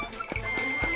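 A family's dog gives short, close yips and bow-wow barks in quick succession indoors.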